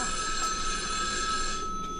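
An old-style phone with a ratcheting bell rings continuously in an office-like setting, a steady electronic trill holding for the full two seconds with no pauses.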